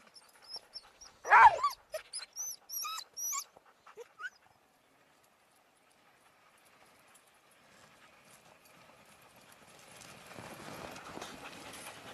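Norrland husky sled dogs in snowy Lapland give a few yips and barks up close, then fall quiet while the sled runs along, with a soft rising hiss of runners and movement toward the end.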